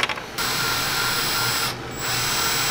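A power drill runs steadily with a dense whirring buzz, briefly easing off before spinning up again, close by.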